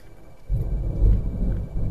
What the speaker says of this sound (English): I don't know if the video picked up that thunder, but it's starting to rain around here.